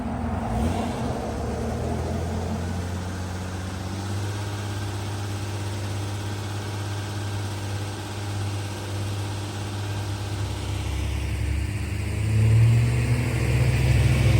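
A car engine runs steadily, its exhaust pulsing out the back with a deep, throbbing low rumble while clearing excess fuel; a loud, continuous drone that swells slightly toward the end, with no talking.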